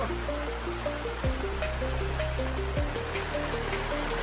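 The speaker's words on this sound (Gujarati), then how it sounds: "ચડવાનું ચાલુ જ કર્યું તો વરસાદ ચાલુ થઈ ગયો" Steady rain hissing through the whole stretch on Brahmagiri hill during a monsoon trek near Nashik, a broad even wash with faint drops and no talk, over a soft low background tone.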